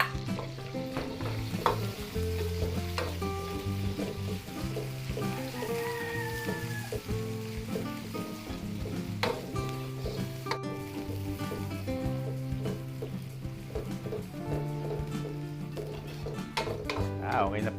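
Garlic and onion sauté in a pan for a chicken-ovary dish, a continuous crackling sizzle with frequent sharp clinks and scrapes of a utensil stirring, fairly close, with no voice over it.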